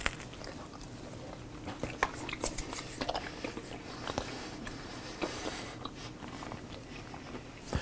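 Biting and chewing into a slice of New York style pizza with a crisp crust, baked in a Kamado Joe grill, close up with repeated crunchy bites and wet chewing sounds over several seconds, no talking.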